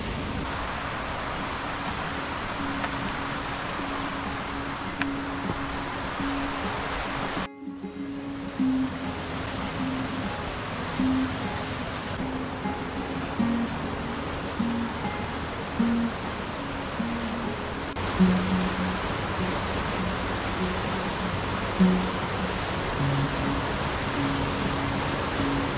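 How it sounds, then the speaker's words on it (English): Small waterfalls beside a path near Rannerdale Knotts above Buttermere in the Lake District make a steady, broad rush of falling water, with occasional soft knocks over it. "Got some nice little mini waterfalls."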